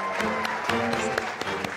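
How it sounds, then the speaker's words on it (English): Wedding reception guests applaud the newlyweds as they enter the room, a brief spatter of steady applause over a low background hum. "Let's have a nice round of applause for the new Mr."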